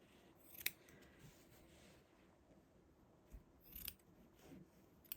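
Scissors trimming crochet yarn ends on a mosaic crochet envelope border, with a couple of faint, soft snips separated by quiet handling rustles, close by.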